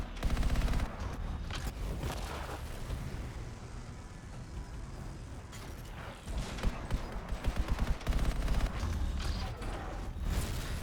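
Rapid gunfire crackles through a fight in the game Anthem, with dense, continuous bursts of shooting and a few heavier impacts heard close and loud throughout.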